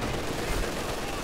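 An MG42 machine gun firing incendiary rounds in a video game match, a dense, continuous rattle of rapid gunfire heard at a distance under a broad wash of noise.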